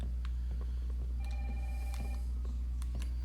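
A telephone rings in the video game Resident Evil 3 Remake, giving a short tonal ring over a heavy, constant low hum, with light clicks around it.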